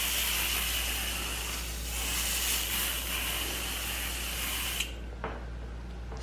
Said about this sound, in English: I'm gonna take this Fall Forest room spray, which I believe I got from Home Goods, and you just spray it.